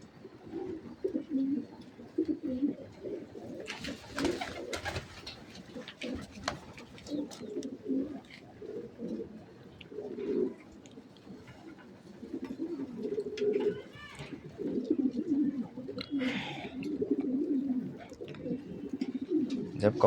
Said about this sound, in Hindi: ये कबूतर डर रहा है, पता नहीं क्या बात होगी पिंजरे में घुसने से।